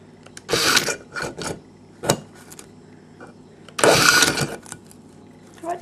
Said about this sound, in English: we put in the 3/16 drill